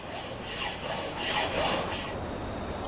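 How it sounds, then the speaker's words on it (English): Flat metal file with shorter teeth making several smooth rasping strokes in a steady back-and-forth rhythm, close but fairly quiet. "This is a flat file, but its shorter teeth remove much less material on each stroke"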